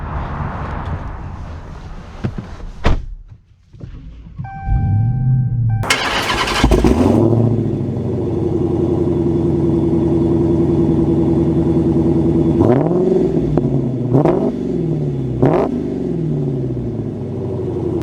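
A 2023 Dodge Challenger Hellcat fires up with a loud starter crank, then settles into a deep, steady idle that is punctuated by three sharp throttle blips. The car is close and no one speaks.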